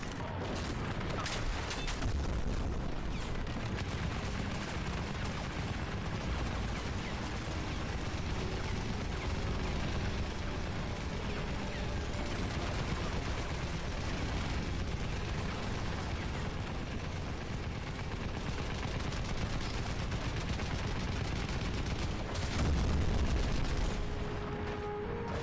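Dense, continuous gunfire and explosions fill a Crysis firefight on the hardest difficulty, with missile launcher blasts booming under the steady roar of battle; a heavier burst near the end stands out.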